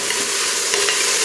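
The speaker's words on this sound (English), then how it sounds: "Stir that up." Vegetarian chili stirred in a pot, with a loud, close, continuous sizzle and a dense scraping hiss through the brief moment, no talking.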